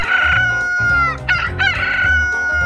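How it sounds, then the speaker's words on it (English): Several cartoon roosters on a farm crow loudly one after another, overlapping cock-a-doodle-doo calls filling the short stretch with no talking. "Max, these are roosters. 1, 2, 3, 4, 5, 6 roosters"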